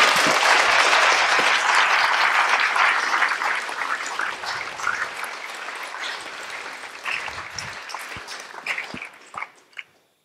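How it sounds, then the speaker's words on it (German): At a book presentation on typography, an audience breaks into loud, close applause that holds strong for a few seconds, then thins into scattered individual claps before dying away. "Den beiden einen ersten Applaus bitte."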